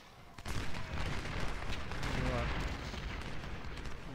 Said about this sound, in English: That is a lot of gunfire.